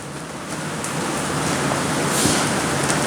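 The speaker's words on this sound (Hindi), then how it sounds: "बारिश की वजह से बहुत सारी आवाज़ें आ रही हैं" Heavy rain falling outside, a steady dense hiss of water that fills the whole clip at an even, fairly loud level with no voices.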